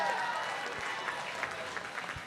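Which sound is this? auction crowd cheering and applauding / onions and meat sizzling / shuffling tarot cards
auction crowd cheering and applauding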